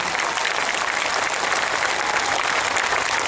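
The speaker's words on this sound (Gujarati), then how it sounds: "એવા લોકોને પણ જોરદાર તાળીઓથી જવાબ આપો" Steady, dense applause from a large crowd at an outdoor political rally in Gujarat, sustained and loud throughout without pauses, with a faint murmur of voices mixed in.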